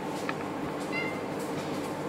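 A cat gives a short, soft meow or two against a quiet indoor background with rain outside, with no one speaking.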